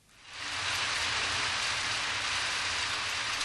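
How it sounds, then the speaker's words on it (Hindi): Steady rain falls in a dense, even hiss that begins quickly and holds loud and continuous throughout, with no voices over it. "आओ देखो, बारिश हो रही है"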